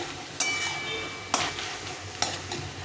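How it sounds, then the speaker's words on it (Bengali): Leafy greens being stirred with potato and eggplant in a pan: a low, continuous sizzle punctuated by three distinct scraping strokes of the spoon at roughly regular intervals, close up. "এখন সবজিটার সঙ্গে শাকটাকে ভালো করে নেড়ে নেড়ে মিশিয়ে নিতে হবে"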